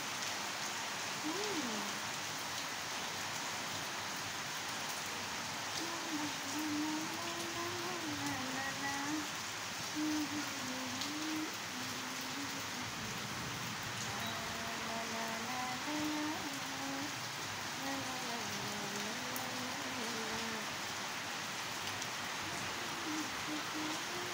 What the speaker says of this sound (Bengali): দেখো কত জোরে জোরে বৃষ্টি হচ্ছে